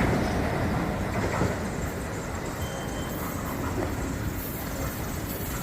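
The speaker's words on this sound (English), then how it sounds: "This train is 8 cars." An eight-car PATH train with no passengers rolls through Harrison station, a loud, steady rumble of wheels on rail with faint clatter throughout, close by and without voices.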